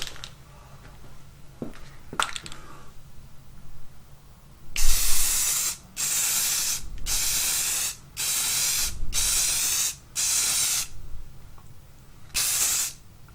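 An aerosol spray can lays a sealer coat onto a wooden CNC-carved plaque in a series of about seven sharp, close hissing bursts, each roughly a second long with short pauses between, after a couple of faint taps.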